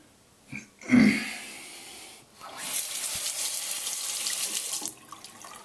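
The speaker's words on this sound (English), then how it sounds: "you always have to constantly be rinsing out your blade" A safety razor blade is rinsed under a running tap, with a brief splash and clatter first, then a steady hiss of flowing water for about two seconds before it shuts off.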